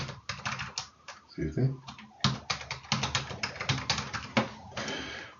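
Typing on a computer keyboard while entering a root password during a VSAN host setup, a quick run of clicky keystrokes in bursts with a short spoken interruption in the middle.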